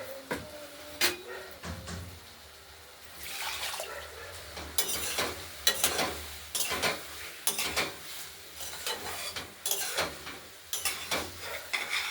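Potatoes, peas and spices for a vegetarian ghugni being sautéed in a pan, with a spoon scraping and clinking against the pan in irregular strokes over a low, steady sizzle. The sound is close and there is no talk.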